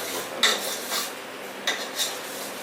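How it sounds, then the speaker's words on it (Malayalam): Upma ingredients stirred in a pan with yellow turmeric powder, giving a few metal utensil scrapes and clinks against the pan at irregular intervals, close and fairly quiet, with no talk. "എല്ലാം ഒന്ന് ജസ്റ്റ് ഒന്ന് നന്നായിട്ടൊന്ന് ഇളക്കി"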